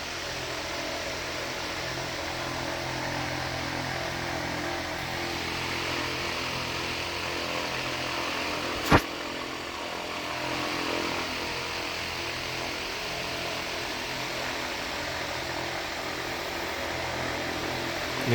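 Power sander running steadily in a workshop while working on a notch, a constant broadband whir that holds evenly throughout, with one sharp knock near the middle.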